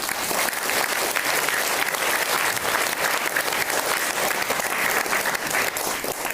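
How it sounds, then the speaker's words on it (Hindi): An audience clapping hands together at a motivational success-story gathering, loud, dense and sustained applause with a slight crowd murmur underneath. "एक बार ऊपर हाथ करके ताली बजाते हम सब लोग।"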